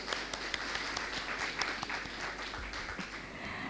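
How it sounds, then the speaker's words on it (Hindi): An audience at a stock exchange listing ceremony applauds in a sustained patter of hand claps, with a few sharper individual claps standing out near the mic and a low rumble underneath. "जोर से तालियां बजनी चाहिए."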